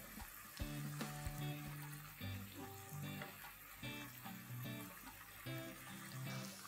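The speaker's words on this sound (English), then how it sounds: "Just another touch of water, in this case, just to clean the potato masher." A splash of water goes into a pot to rinse a potato masher after mashing turnips, with soft sloshing, bubbling and light clinks of metal on the pot, fairly quiet and close.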